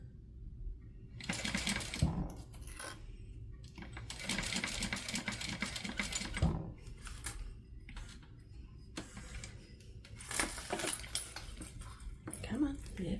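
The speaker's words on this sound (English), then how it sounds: "I'm going to go ahead and baste this lining and this panel together so that it makes it easier to sew later" A sewing machine bastes a lining and a fabric panel together, running in several bursts of rapid ticking stitches close by, separated by short pauses.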